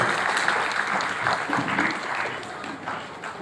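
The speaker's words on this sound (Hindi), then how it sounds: "और जोरदार तालियों से स्वागत, अभिनंदन करते हैं।" A crowd at a public gathering in Bihar's Mithila region gives loud, sustained applause to welcome guests, a dense clapping that swells and fades slightly but never stops.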